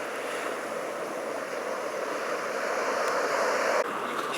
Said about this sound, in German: Und das sind die Wellen, die das Boot gemacht hat.